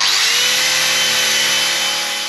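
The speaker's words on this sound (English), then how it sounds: "Scotch pad so that they remove the paint" A scotch pad on a power tool strips paint from metal during a K-brace install on an Audi S3 8V, giving a loud continuous whine and abrasive rubbing close up, slowly fading toward the end.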